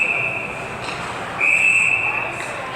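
A referee's whistle at a high school hockey game against Duluth East, two steady shrill blasts, the second louder, over arena noise.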